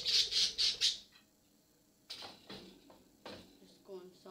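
A pet budgie squawks loudly and close four times in quick succession, then goes quiet. Later come scattered knocks and rustles, like a cage door or objects being handled.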